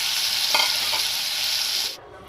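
Boiled jackfruit seeds go into a hot pan for a Goan bhaji and get stirred, a steady close sizzle with a couple of scraping strokes before the sound cuts off abruptly near the end.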